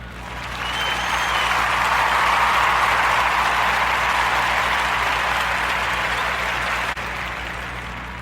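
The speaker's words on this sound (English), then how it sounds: "a warm narrative podcast round of applause" A sustained round of applause from an audience, swelling in quickly and holding steady and loud for several seconds of dense clapping, with no speech over it.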